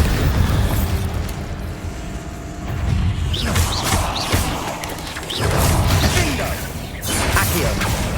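A Bombarda spell blast in the Hogwarts Legacy video game goes off amid continuous game combat noise, a loud booming burst mixed with clanking mechanisms and crashes, rising and falling over several seconds.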